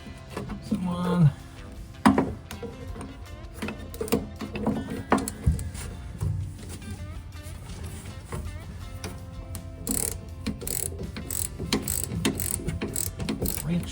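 Ratchet wrench clicking in bursts while tightening a part on a 1968 VW Beetle during a brake line and rear axle restoration, close and fairly loud, with some mechanical clatter around it.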